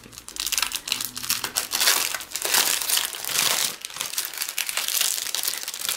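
Scrapbooking background paper from a 16-page pad is handled close up, with continuous crinkling, rustling and soft crunching as sheets are shuffled and flexed. No voices are heard.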